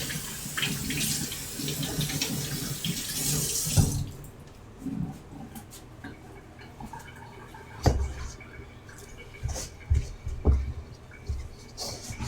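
Water runs from a kitchen tap for a few seconds while being added to a roasted tomato sauce, then stops, followed by scattered clinks and handling noises nearby.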